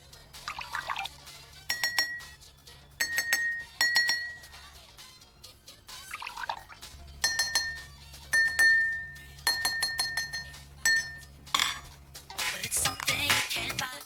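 Two water-filled drinking glasses are struck in turn, ringing with clear, bell-like tones. Water is poured between them to tune them to the same pitch, with trickling pours between the clinks and a splashy pour at the end.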